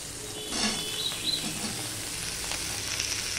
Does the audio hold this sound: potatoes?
yes